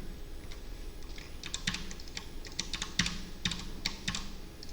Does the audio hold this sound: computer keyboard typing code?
yes